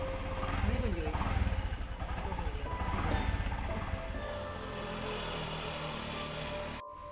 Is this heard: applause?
no